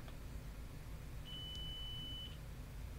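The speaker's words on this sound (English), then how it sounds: "Sorry for the jump scare beep." A single steady electronic beep sounds for about a second while a gamer troubleshoots their audio during a Mario Kart Tour session, a clean, high, sustained tone over a quiet low background hum.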